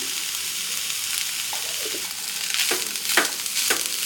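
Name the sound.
stirring chicken filling with pepper and garam masala in pan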